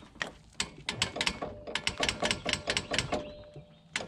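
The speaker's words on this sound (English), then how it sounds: "now we're gonna go ahead and torque it to spec, and the torque spec is 98 foot-pounds" A torque wrench ratchets in quick, close clicking bursts while tightening brake bracket bolts to 98 foot-pounds on a 2007-2013 Infiniti G35x/G37x AWD front hub, ending in a final clack.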